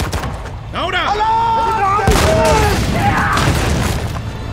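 A tank cannon and gunfire fill a battle scene from a war film about a lone tank facing a German army, with heavy booms and sharp shots mixed with rising, whining tones and dense rumbling close up.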